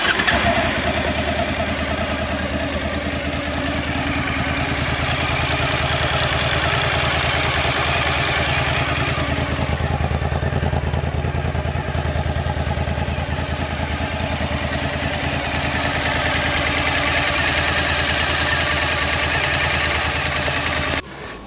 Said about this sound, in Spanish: Y enciende la moto en frío. Escucha muy bien el motor